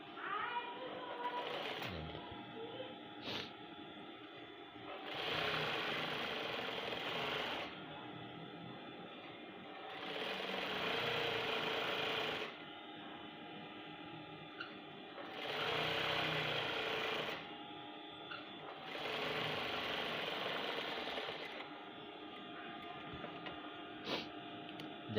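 A sewing machine stitches the waistband onto a pair of men's trousers in loud, steady whirring runs of several seconds, alternating with quieter pauses where someone speaks.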